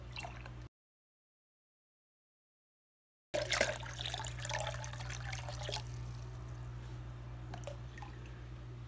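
Water trickles and drips into plastic bags holding newly delivered freshwater fish, a steady low splashing under a constant background hum, with a brief silent gap near the start.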